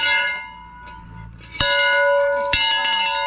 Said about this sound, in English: there is the bell right there, and I would imagine it probably still rings.